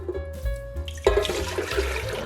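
Tap water gushes into a cooking pot for a seitan recipe, a steady close rush that swells louder partway through after a quieter start with a faint tonal hum.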